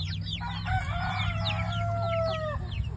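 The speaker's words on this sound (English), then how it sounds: "The chicks are screaming because" Backyard chickens and chicks make close, loud cries. Shrill peeping chirps repeat rapidly over a longer drawn-out squawk or crow, with a low hum underneath.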